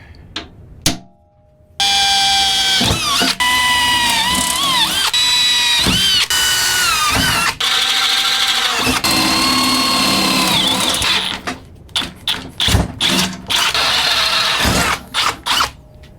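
A power drill bores holes while building wheels onto a generator, with a long loud whining run broken by pitch shifts, then a series of short revving bursts toward the end.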